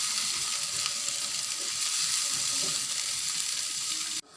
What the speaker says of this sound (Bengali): হালকা করে ভেজে নেওয়া হয়ে গেছে